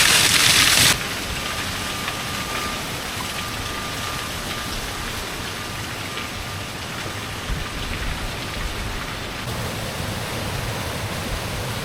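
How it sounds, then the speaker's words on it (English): Water rushes steadily along the mill race feeding the undershot hydroelectric wheel at Eskdale Mill, a dense, continuous roar that bursts louder for the first second and then settles into a constant broadband wash. "This is the race that's feeding the hydroelectric wheel."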